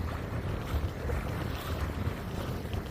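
A Catalina 27 sailboat under way off Port Washington on Long Island Sound, with steady low wind and water rush against the hull and gusty microphone buffeting throughout, no voices.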